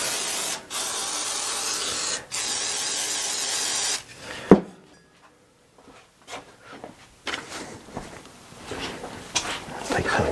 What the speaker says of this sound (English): let's take a little bit of WD-40 here if it'll work